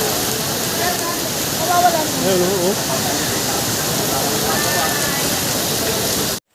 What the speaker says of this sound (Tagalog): Grabe ang lakas ang ulan. Galit na galit yung ulan.